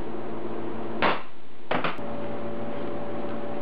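Hammer strikes on a center punch, marking hole centers through a paper template laid on a half-inch 304 stainless steel turbo manifold flange: one sharp metallic tap, then a quick double tap, close and alone over a steady shop hum.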